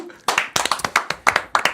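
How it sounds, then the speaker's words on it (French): A studio audience claps to welcome a guest on a French talk show about Stranger Things; brisk, close hand claps in short uneven bursts from a small group, loud and dry. "On t'applaudit."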